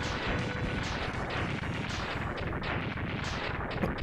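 Explosions in the video game Mega Man X3 boom in a dense, continuous barrage of overlapping blasts, loud and close, with no voices.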